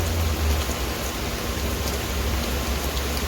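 Extreme, heavy rain pours down in a dense, steady hiss of drops on surfaces, loud and constant throughout with no voices.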